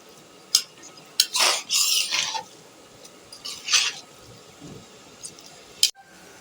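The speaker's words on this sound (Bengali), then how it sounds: "এখানে নেড়ে চেড়ে চালটাকে ভেজে নেব।" Washed polao rice stirred and fried in a pan for an egg and prawn biryani, heard as scattered scraping and rustling strokes of a spoon against the pan with brief pauses between them, close and moderately loud, with no talking.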